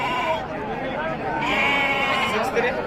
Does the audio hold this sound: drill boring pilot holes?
no